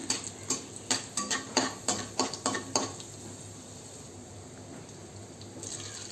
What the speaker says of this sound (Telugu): శనగపప్పు, ఎండుమిర్చి లైట్గా ఫ్రై చేసుకొని